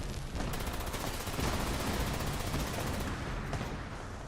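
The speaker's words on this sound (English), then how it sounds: "I can't see it for the explosion" A sustained, roaring explosion in the video game Fallout 76 fills the whole stretch with loud, dense crackling and rumbling, steady from start to finish with no voices over it.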